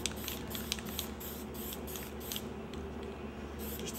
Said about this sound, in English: I'm gonna spray some white right in the corner where I know my planet stencil is gonna be.